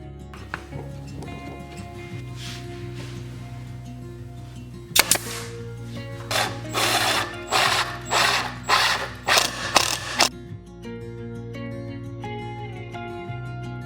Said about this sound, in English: then I'll nail them in place with my air nailer